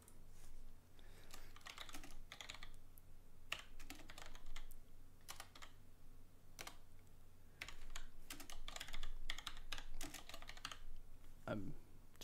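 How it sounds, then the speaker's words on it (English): Rapid bursts of typing on a computer keyboard, quick irregular keystrokes in clusters with short pauses, fairly close and steady throughout over a low background hum. "Typing away in this."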